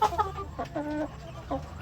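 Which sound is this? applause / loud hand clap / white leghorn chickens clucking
white leghorn chickens clucking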